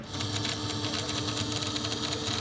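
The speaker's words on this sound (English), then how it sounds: "The beauty of this machine is that the computer just sends the information like it would to an inkjet printer, and it just moves it backwards and forwards" A computer-controlled 3D cutting machine carving a symmetrical prop runs steadily, its cutting head moving back and forth with a continuous mechanical whir and rapid buzzing, close and fairly loud with no talk.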